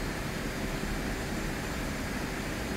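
An FA-18C fighter jet on patrol flying nearby, heard as a steady, broadband roar that holds at an even, moderate level throughout with no voices.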